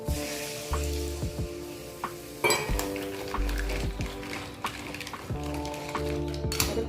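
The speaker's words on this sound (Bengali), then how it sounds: "আমি মিশিয়ে নিচ্ছি কাঁকড়ার ভিতরে মশলাটা ভালো করে ঢুকে যাবে" Spicy Sundarban crab curry stirred with spices in a pan: clanking spoon-on-metal scrapes and clinks at an irregular pace, close and clear, with a light sizzle underneath and no talking.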